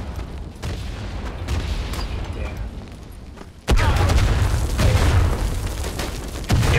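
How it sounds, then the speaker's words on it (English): Artillery shells bursting in the WWI video game Tannenberg during a convoy ambush, with one heavy boom landing close and loud over rumbling battle noise, followed by sustained low blasts and scattered pops. "I get blown into smithereens. They're very good with their artillery."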